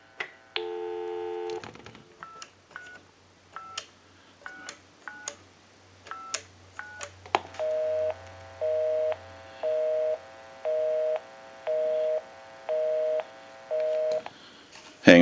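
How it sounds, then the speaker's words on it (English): Microtel 202 telephone keypad tones beep one by one as a number is dialed, followed by a steady, repeating busy signal pulsing on and off. "We'll call my number and it'll be busy."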